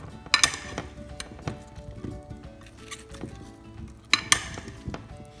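Paneer cubes and potato pieces are tossed gently in a bowl for tikka masala, giving soft scattered clinks and rattles with a couple of sharper knocks, close up and with no talking.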